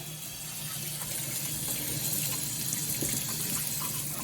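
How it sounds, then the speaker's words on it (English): Steady running tap water as an onion is rinsed under the faucet in a kitchen sink, a continuous close splashing flow with no talking. "I give the onion a quick wash"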